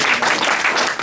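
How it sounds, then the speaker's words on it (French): A church congregation claps together in a dense, continuous burst of applause, close and loud throughout with no clear pauses. "Nous applaudissons pour Jésus."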